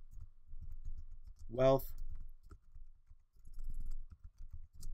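Quiet typing on a computer keyboard, a soft run of close key taps under a few spoken words.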